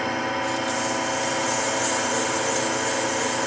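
A pen blank is sanded with 400 grit sandpaper on a spinning lathe, giving a steady, loud motor whir under a continuous rubbing hiss that never lets up.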